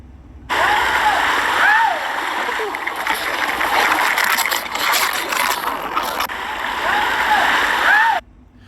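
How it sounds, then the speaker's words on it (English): A person slides down into a calm river spot in El Yunque, Puerto Rico, with a sudden loud rush of splashing and churning water that runs steadily for several seconds before cutting off; a voice is heard. "So this is where I did this little slide thing."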